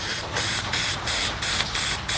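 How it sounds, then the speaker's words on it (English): Bursts of gold aerosol spray paint hissing into a cut plastic cup, about six short pulses in a steady rhythm, close and loud with brief pauses between. "I'm just going to spray some gold spray paint into this cut plastic cup here."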